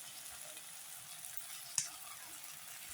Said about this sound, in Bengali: চামচ দিয়ে নেড়ে দেবো